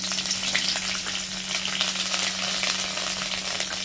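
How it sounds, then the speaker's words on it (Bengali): Nigella seeds and finely chopped green chilli fry in mustard oil, giving a steady, close, loud sizzle with a dense crackle that runs unbroken throughout. No one speaks. "এবার কালো জিরেটা দিয়ে একদম ছোট ছোট করে কাঁচা লঙ্কা কুচি করে নিয়েছি"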